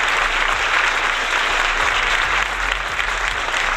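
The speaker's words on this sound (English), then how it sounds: "I want to applaud you." A dense, even wash of clapping from many hands holds at a steady level throughout, with no voices over it.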